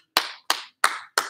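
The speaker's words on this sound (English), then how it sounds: "You can clap." Four sharp hand claps from children in a kids' PE class with a baseball theme, evenly spaced about a third of a second apart, loud and close, with no talking.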